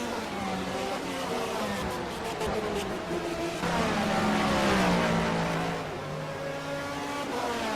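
Race cars circle the Sebring circuit in a racing video game, a steady, loud blend of high engine whine with rising and falling revs from several cars, while French commentary runs over it.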